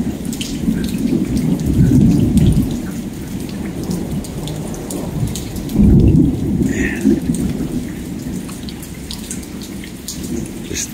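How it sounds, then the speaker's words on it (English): Thunder rolling across the sky during a heavy thunderstorm in Lufkin, Texas, deep rumbles swelling twice over steady pouring rain and dripping on surfaces nearby. "Just thunder rolling back and forth across the sky."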